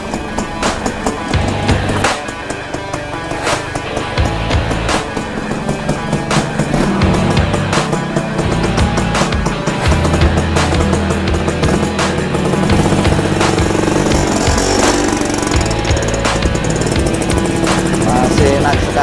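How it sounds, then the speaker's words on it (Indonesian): A 1979 Suzuki A100 motorcycle with the A8 engine is ridden on a test run, its engine running steadily and loud throughout, pulling smoothly with some rise in intensity toward the end. "mari kita test ride untuk tunggangan dari Pak Ipin"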